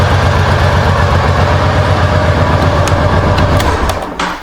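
A 1990 Honda Pacific Coast 800 motorcycle engine idles in a steady, low rumble, continuous, even and unbroken, with a slight dip in level near the end.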